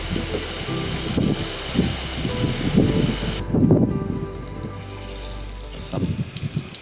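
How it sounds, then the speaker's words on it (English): Water sprays and splashes steadily through a ficus bonsai pot, rinsing off soap, with a hissing rush shifting in intensity, close by and continuous throughout. "Water run through the pot"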